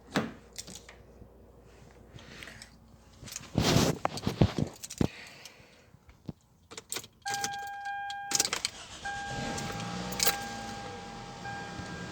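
A car engine cranks and catches after a few clicks and handling noises, then settles into a steady idle with a faint whine, fairly close by, no talking.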